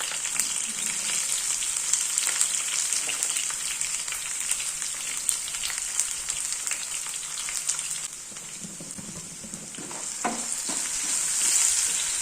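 Chopped ginger, green chilies and garlic sizzle in a hot pan as they are sautéed for mango pickle, a steady close frying hiss broken by the scrape and clatter of stirring, dipping briefly partway through and then swelling again.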